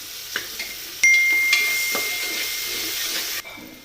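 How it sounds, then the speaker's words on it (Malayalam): Onions sautéing in a pan with a little salt, a soft steady sizzle and hiss broken by a few clinks and scrapes of a spoon against the pan, close by with no voices. "സവാളയെല്ലാം നന്നായിട്ട് ഒന്ന് വഴറ്റി കൊടുക്കണം"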